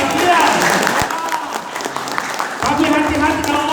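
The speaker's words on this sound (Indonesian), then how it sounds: "Bapak Ibu jangan ragu-ragu, tepuk tangan." Applause from a seated audience at a talk, hands clapping steadily and fairly loud throughout, easing slightly in the middle before swelling again, with a voice speaking over it.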